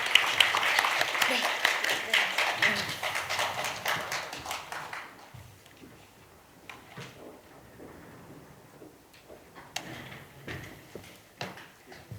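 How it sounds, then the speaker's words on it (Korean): An audience at a panel discussion on military service policy applauds loudly for about five seconds, then the clapping thins out into scattered claps and room noise. "앞서 이야기해 주신 네 분께 큰 박수 부탁드리도록 하겠습니다."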